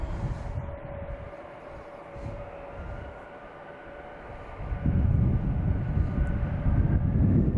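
A JetBlue airliner arriving from Las Vegas at Logan Airport at night makes a steady, broad engine roar that grows noticeably louder toward the end.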